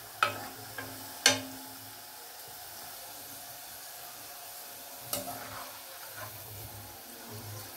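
Onion pakoda deep frying in oil over a medium flame, a low continuous bubbling hiss broken by a few sharp clinks and scrapes of stirring, close by with no talking.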